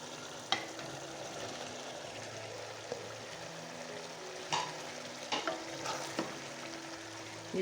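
Chicken with kachnar buds frying in oil in a pan, stirred now and then: a steady, quiet sizzle with scattered soft scrapes and clicks of the spoon, no voices.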